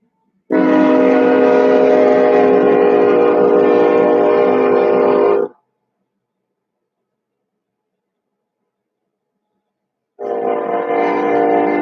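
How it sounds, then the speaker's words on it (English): A train horn blasts loud and steady for about five seconds, falls silent, then sounds again near the end. "Train."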